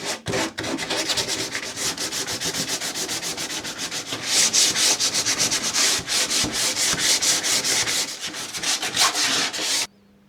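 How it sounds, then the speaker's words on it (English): Steady back-and-forth rasping of sandpaper on a wooden boat, loud and close, with quick rhythmic hand strokes that continue without talking before stopping abruptly. "Just give these a little bit of sanding now."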